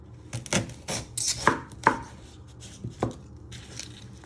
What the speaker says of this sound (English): You first want to chop your ends off.